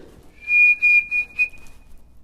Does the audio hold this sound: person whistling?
yes